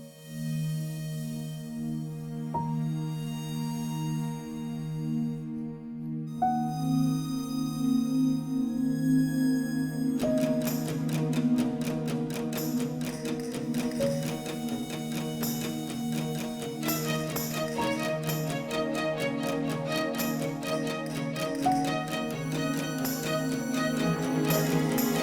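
Hybrid orchestral music combines sustained strings, a trill and layered synths, opening with soft held tones and thickening near the ten-second mark into a dense, pulsing texture that continues steadily to the end.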